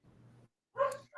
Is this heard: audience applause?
no